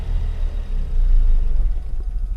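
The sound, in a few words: Ford Focus engine running and struggling, about to stall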